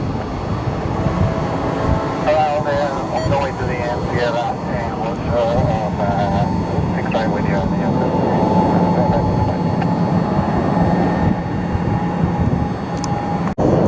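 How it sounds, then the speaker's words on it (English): An airliner on its takeoff roll for a flight to Newark, heard as a sustained engine roar and rumble that builds over the clip while people talk over it. "Boy, this is not a high-speed takeoff roll."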